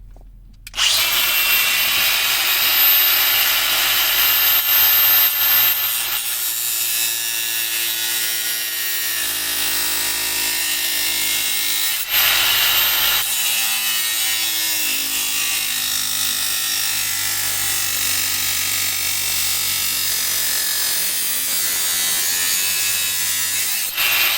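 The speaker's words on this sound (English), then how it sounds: "looks like I'm gonna have to go with this angle grinder to relieve this guy a little bit" An angle grinder cuts through the metal dash of a C5 Corvette during a double-DIN radio install, giving a loud, steady high-pitched whine that runs almost unbroken for the whole stretch, with brief dips as the cut shifts.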